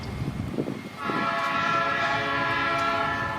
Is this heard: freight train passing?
yes